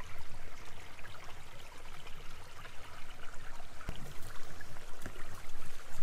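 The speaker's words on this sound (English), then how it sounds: "Should see some water pumping up through here shortly." Water pumping through an Itehil 100 off-grid reverse osmosis purifier, a steady close trickling, gurgling flow with a low mechanical rumble underneath and one sharp click midway.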